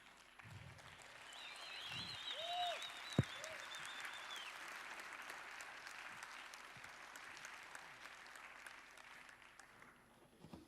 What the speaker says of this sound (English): So please give a huge round of applause for Ives and Bas.